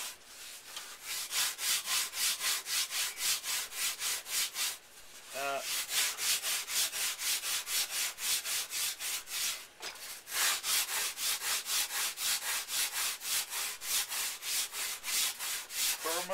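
Wood sanded by hand with sandpaper, close and loud rhythmic back-and-forth rasping strokes running nearly nonstop, with two short pauses.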